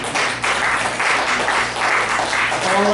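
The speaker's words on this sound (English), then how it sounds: "Give it up for Charles." Steady, dense applause from an open mic audience at a poetry and prose series in Lakewood, Ohio, clapping for a poet named Charles, loud and continuous with no speech over it.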